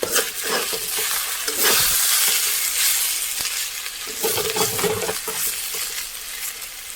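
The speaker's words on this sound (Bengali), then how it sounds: "একটু তেল বেশি দিয়ে ভেজেছি, দারুণ হয়েছে" Flower petals frying in a generous amount of oil in a pan, a continuous bright sizzle with occasional stirring scrapes and shifts in intensity, close and busy with no talking.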